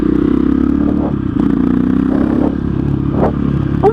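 A KTM 660 SMC motorcycle engine revving hard and steadily up close for a brief wheelie attempt, with rattling, clattering and scraping mixed into the drone and no talking.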